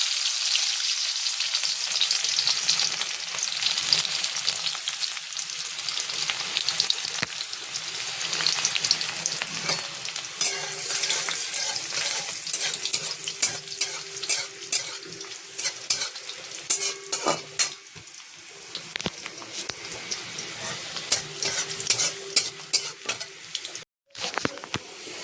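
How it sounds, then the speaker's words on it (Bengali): Bori lentil dumplings fry in hot oil in a pan, a steady dense sizzle with occasional stirring scrapes and clinks, running unbroken and close throughout. "এবার বড়িটা ভাজবো"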